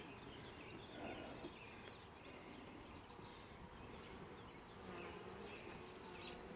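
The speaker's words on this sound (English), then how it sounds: "A lot more bees." A dense, steady hum of many bees droning together, close by and continuous, with no talking.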